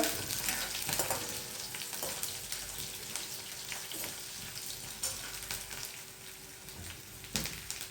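Chili, garlic, cumin and mustard seeds fry in hot oil with a steady, close crackling sizzle, scattered sharp pops and occasional stirring clicks throughout.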